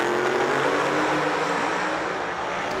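Nitrous and ProCharger drag race cars roar in a loud, continuous engine drone at the Yellow Bullet Nationals 2022, steady throughout with no pauses.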